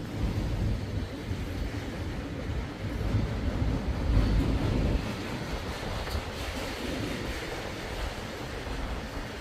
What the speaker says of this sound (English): this wind is fast enough